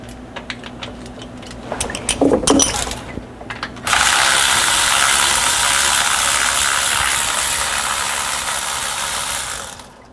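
Ratchet cracking loose the transmission filter bolts on an Allison transmission, several close, sharp clicking bursts followed by a long steady broadband hiss or whir that fades at the end.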